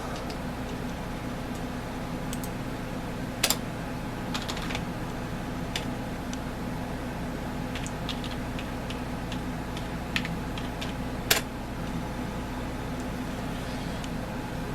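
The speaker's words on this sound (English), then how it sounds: "you type in what's my IP." Sparse computer keyboard keystrokes, a handful of sharp isolated clicks spaced irregularly over a steady low room hum, with no talking.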